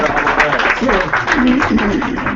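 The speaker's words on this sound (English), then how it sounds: "Round of applause." An audience at a real estate contract seminar gives a round of applause, a continuous wash of clapping that runs under someone speaking throughout.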